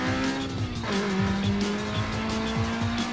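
Tires squeal and skid continuously as a car slides in the racing game Need for Speed Most Wanted, with a constant engine whine underneath and no talking.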